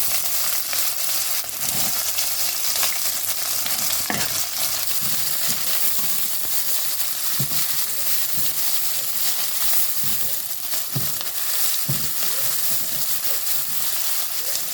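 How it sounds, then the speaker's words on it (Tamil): Onion frying in oil with popped mustard seeds makes a loud, continuous sizzle, with scattered scraping stirs throughout and no talk. "கடுகு பொறிஞ்சிருச்சு வெங்காயம் போட்டுக்கலாம்"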